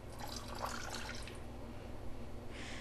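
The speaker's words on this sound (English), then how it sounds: "I'm going to pour in my water and my borax mixture" Water and borax mixture poured into melted lanolin for a homemade herbal moisturizer, a steady close-up splashing pour that runs unbroken for about three seconds with no talking.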